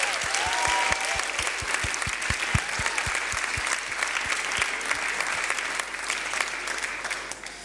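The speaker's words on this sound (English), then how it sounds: "let's give the band a round of applause" Steady, full applause from a church audience for the band after music, sustained and even throughout, with low rhythmic thumps running underneath the first half.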